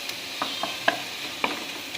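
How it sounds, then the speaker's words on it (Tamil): Masala for a Chettinad prawn gravy sautéing in a pan: a steady low sizzle with several sharp stirring scrapes at irregular intervals, close and fairly quiet, with no voices. "இது கொஞ்ச நேரம் இதுலேயே நல்லா கொஞ்சம் வதங்கட்டும்"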